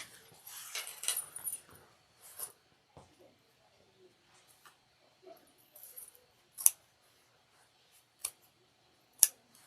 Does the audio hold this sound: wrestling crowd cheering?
no